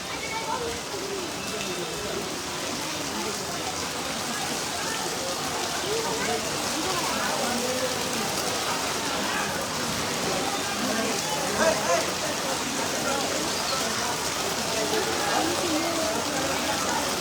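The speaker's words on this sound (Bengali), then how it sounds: "কিন্তু বৃষ্টি প্রচুর।" Heavy rain pours steadily at an outdoor cattle market, a dense, even hiss that holds for the whole stretch, with cows sheltering under a tarp nearby and no other sound standing out.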